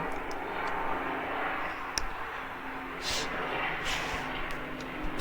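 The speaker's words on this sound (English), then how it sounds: "there's a chopper going by." A helicopter passes by as a steady, broad, whooshing engine drone in the background, moderately loud and unbroken for several seconds.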